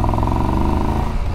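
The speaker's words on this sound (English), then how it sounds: "I love that sound when it's under load, the engine." A big-bore triple-cylinder adventure motorcycle pulls under load in third gear at around 2,000 revs, a loud, close, smooth engine drone with an even pulsing beat that shifts slightly toward the end.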